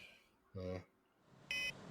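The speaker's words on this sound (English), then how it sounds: "familiar console beeps to alert you that you are about to exit the drift at Outpost Z" Two short electronic beeps from a sci-fi ship console alerting that the vessel is about to exit the drift at Outpost Z, a low tone then a higher one about a second apart, faint against quiet background.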